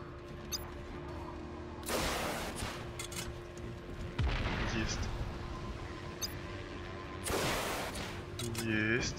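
Explosions blast through an open-world action scene in Just Cause 3, several loud booming detonations with crashing debris at irregular intervals, separated by quieter stretches of game noise while someone talks over them.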